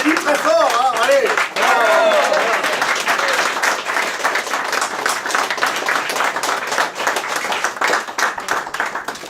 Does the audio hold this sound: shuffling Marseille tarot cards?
no